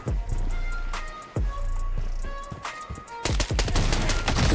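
A new gun fires in the shooter game BloodStrike: sharp, loud shots in spaced bursts that turn into rapid continuous fire near the end, with no one speaking.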